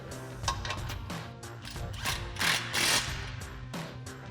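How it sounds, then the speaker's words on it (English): A ratchet with a 16mm socket clicks in short bursts while turning a front bumper bolt on a Jeep Wrangler JL, quiet and close, with uneven pauses between strokes. "we'll switch to our 16mm socket for our top bolt"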